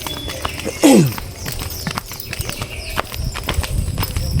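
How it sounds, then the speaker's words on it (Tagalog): A horse clip-clops with a steady, moderately close rhythm of hoof strikes, with a brief squeal or whinny early on and outdoor background noise around it. "Ito po yung kabayo na pabigyan mga kababayan."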